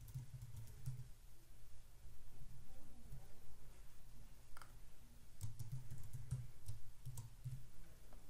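Fingers type a username and password on a computer keyboard, quiet close clicking in short bursts separated by pauses, over a soft room hum.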